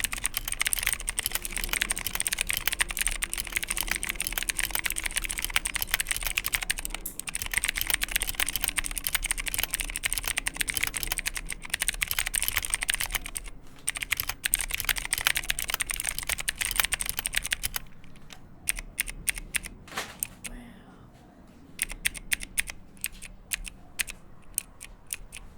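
A Qisan Magicforce 68 mechanical keyboard is typed on rapidly and continuously, with close, crisp key clatter that thins into sparse separate keystrokes near the end.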